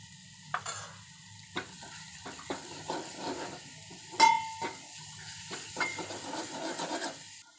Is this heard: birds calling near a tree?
no